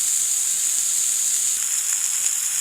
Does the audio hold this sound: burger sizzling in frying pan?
yes